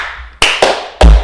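Sharp hand claps made to sync a recording: three crisp, close slaps in quick succession, the last one the loudest, against a quiet room.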